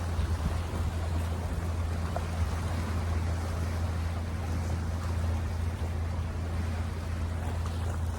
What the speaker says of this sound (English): I love the sound of the waves on the rocks.